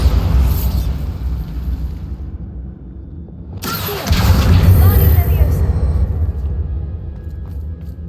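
A Bombarda blasting spell goes off in Hogwarts Legacy, a sudden loud burst with a booming low rumble that swells and lingers, over steady game background noise and voice.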